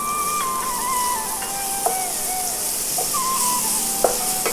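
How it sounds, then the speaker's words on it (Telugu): Beetroot fries in ghee in a pan with a steady, close sizzling hiss, broken by a few sharp clicks and some thin whistling tones. "ఇది నెయ్యిలో మనం ఏం చేద్దామంటే బీట్రూట్ వేపుకుందాం."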